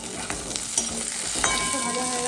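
Pointed gourd slices for potol posto sizzle and fry steadily in a hot pan, a close, continuous crackle with a few stirring scrapes and no speech.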